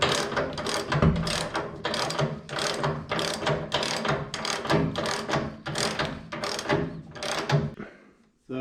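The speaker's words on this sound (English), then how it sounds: "Now we're going to tighten the strut rod nut at the rear of the strut rod." A ratchet wrench with a 1-inch socket tightens the rear strut rod nut on a Bricklin SV1 suspension, giving a steady run of rapid clicking strokes up close for about eight seconds, then stopping.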